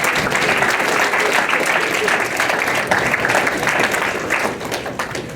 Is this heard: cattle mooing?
no